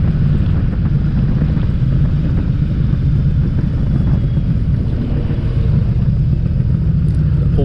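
Motorcycle engine chugging low and steady in third gear while climbing a winding road, a continuous loud rumble with wind noise throughout.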